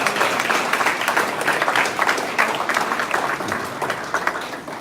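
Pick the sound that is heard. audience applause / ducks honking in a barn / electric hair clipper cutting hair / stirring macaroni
audience applause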